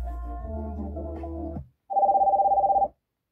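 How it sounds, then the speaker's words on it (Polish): A short tonal sound cuts off, then after a brief pause a phone rings once through a TechniSat DIGICAR 100 BT FM transmitter with a rapid trilling electronic burst, clear and close. "ktoś do nas zadzwoni na nasz telefon"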